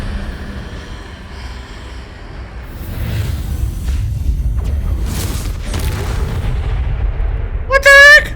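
Confringo spell blasts in Hogwarts Legacy, a sustained rumbling barrage of booming impacts with crackling bursts, mixed with game sounds and ending on a sharp whooshing chirp.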